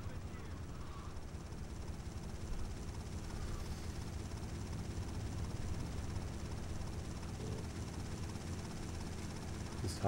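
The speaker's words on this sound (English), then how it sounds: "Let's follow this helicopter real quick." A helicopter in Grand Theft Auto: Liberty City Stories flies close by, giving a steady, dense rotor drone with low thumping that holds at the same loudness throughout, with nothing else clearly standing out over it.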